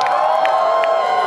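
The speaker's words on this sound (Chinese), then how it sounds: "借用你们的掌声、尖叫声，来欢迎我们的校庆模范生姚宇翔" A large crowd at a school anniversary concert in a baseball stadium cheers and screams over clapping, a loud, sustained roar with shrill high-pitched shrieks, heard close and without pause.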